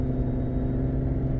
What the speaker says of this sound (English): The inline-six has a very nice engine note to it.